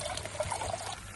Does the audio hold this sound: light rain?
no